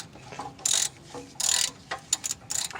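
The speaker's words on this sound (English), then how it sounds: "Now what I'm doing is that I was spinning the wheel" Differential gears of a Chevy Tahoe rattle in short bursts of clicking, ratcheting metal as a wheel is spun by hand, close up, with brief quiet gaps between turns.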